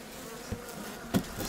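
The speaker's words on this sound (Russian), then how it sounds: "Так вот, пчела" Honeybees hum close up over beehive frames during a winter check after swarms were merged with colonies, a steady low buzz with a couple of brief louder swells as individual bees pass near.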